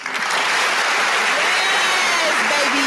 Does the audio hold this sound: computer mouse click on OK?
no